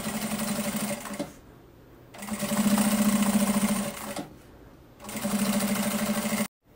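A sewing machine stitches a seam on a plastic bag in three separate bursts of fast, even, close humming whir, each broken by a short pause.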